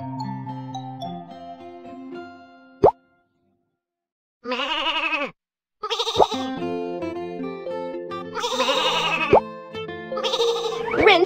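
Cartoonish sheep bleats ring out several times between chimes and bouncy music in the children's game Little Panda's Farm, loud and clear with brief silent gaps.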